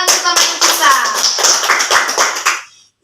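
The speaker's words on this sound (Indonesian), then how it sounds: "tepuk tangan untuk teman kita" A classroom group claps for a classmate, a dense burst of many hands applauding steadily for about two and a half seconds before quickly dying away.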